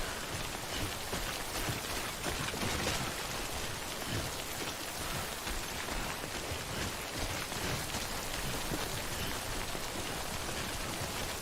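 Steady rain falls throughout in the video game Death Stranding, a dense even hiss of drops with no talk, moderately quiet.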